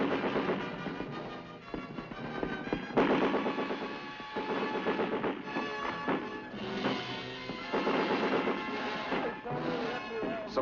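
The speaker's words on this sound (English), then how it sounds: "Progress is halted because of enemy mortar and automatic weapons fire." Combat fire from automatic weapons and mortars, sounding as dense, continuous rattling bursts with heavy booms mixed into an old film soundtrack, and a narrator's voice running beneath the din.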